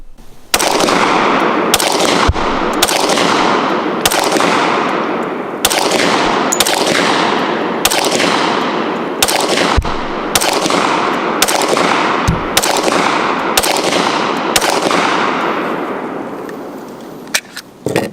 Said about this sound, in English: We're going to go ahead and try some rapid fire from the bench without the sandbags.